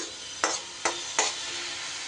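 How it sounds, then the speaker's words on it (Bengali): A spice masala with tomato is stirred and fried in a pan, a steady frying hiss broken by three scraping strokes of the spoon at roughly even intervals. "খুব ভালো করে সব মশলা আমি এবার কষিয়ে নেব"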